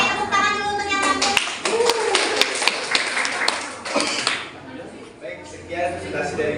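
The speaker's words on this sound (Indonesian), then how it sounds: "tepuk tangan dulu untuk yang mampu." A physics class claps hands together after a group presentation, a burst of sharp, sparse claps near and fairly loud, mixed with student voices and chatter before and after.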